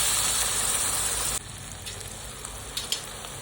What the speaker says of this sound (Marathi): टोमॅटो एकदम सॉफ्ट होईपर्यंत आपल्याला फ्राय करून घ्यायचं आहे